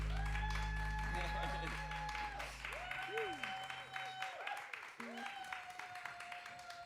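An audience at a NAIDOC Week event at Chapel off Chapel applauds a musician and his band, a sustained crowd clapping mixed with lingering musical tones and a voice speaking.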